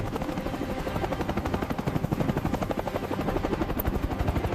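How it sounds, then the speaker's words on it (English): A helicopter flies close by with a steady, rapid rotor chop that keeps an even rhythm throughout, loud and alone with no voices. "Another helicopter joined to speed up the operation."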